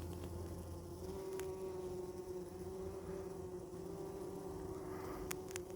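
Honey bees fan at the entrance of a backyard hive in winter, giving off a steady, low, close buzzing drone that holds evenly throughout, with a few faint ticks and no voices.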